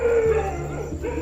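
Village dogs in India cry out with a short drawn-out howling bark, nearby and fairly loud against quiet rural background noise.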